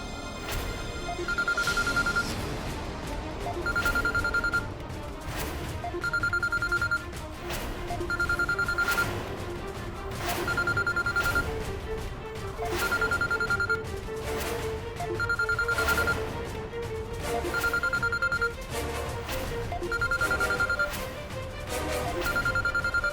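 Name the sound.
telephone bell ringing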